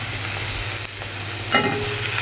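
Garlic sizzling in a hot pan, a steady close crackle of frying with a brief burst of stirring or spattering partway through, no voices.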